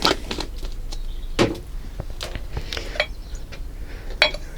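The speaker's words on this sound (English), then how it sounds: "Let's give that solvent a little mix." Nail polish remover solvent is stirred in a small container, giving a close run of light clinks, taps and scrapes at an irregular rhythm, with no talking.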